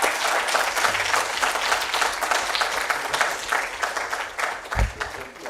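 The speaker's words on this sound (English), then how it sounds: "Let's welcome him with a big round of applause." Hall audience at a memorial oration gives a big round of applause to welcome the orator, dense continuous clapping from many people with individual sharp claps standing out, and a brief low thump near the end.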